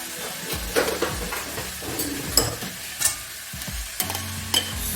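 Minced meat sizzles and fries in a pan for Nigerian meat pie filling, with repeated close stirring scrapes over a steady crackling hiss.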